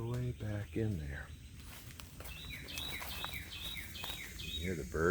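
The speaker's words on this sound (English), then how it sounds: "You hear the birds just a-singing." Birds singing in the woods, repeated high chirps and short trilling calls at moderate distance, with someone talking over the start.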